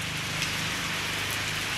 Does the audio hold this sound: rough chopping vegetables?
no